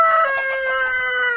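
Laying hens on a poultry farm cluck and a rooster crows close by, a steady, loud flock chorus without pause, with no talk over it.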